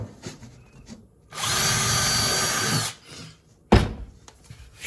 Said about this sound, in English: Drill a hole in the middle of this thing.